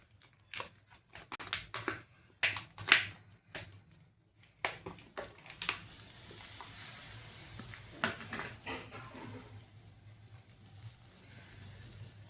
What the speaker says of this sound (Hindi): अब उसी कढ़ाई में खोया को भून लेंगे।